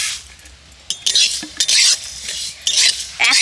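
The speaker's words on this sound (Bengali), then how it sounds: "তো এগুলোকে এখন আমি শুকনো কড়ায় ভালো করে ভেজে নেব।" Mustard seeds, fennel, fenugreek and dried chillies are dry-roasted in a wok, with loud, close spatula scrapes in quick repeated strokes and brief pauses between them. The strokes sound alone with no talking.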